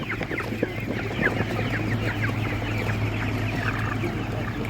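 Broiler chickens cluck and chatter steadily at a village animal market, many birds close together in a continuous busy flock noise with a low steady hum underneath.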